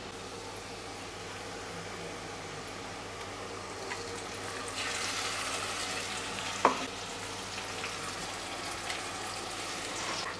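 Sliced onion sautéing in a pan until golden for Nagpur-style Saoji chicken sukka: a steady, soft frying hiss with occasional stirring scrapes and a sharper clink near the end, no talking.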